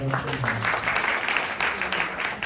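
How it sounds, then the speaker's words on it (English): An audience applauds a performer, Karen De Silva, at an evening event, a steady, fairly dense patter of clapping that holds for a couple of seconds, with faint voices mixed in. "Another round of applause for Karen De Silva"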